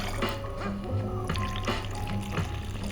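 Havana Cuban rum is poured into glasses for mojitos, a short liquid glug and trickle close by with light clinks, no voices.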